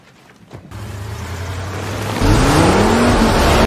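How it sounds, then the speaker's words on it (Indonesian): Cars speeding in a chase, with engines rumbling and revving; the roar swells loud and close after a moment, with a rising pitch as one accelerates, over steady road noise. "Dan saat mereka melaju, beberapa mobil mulai mengejar mereka."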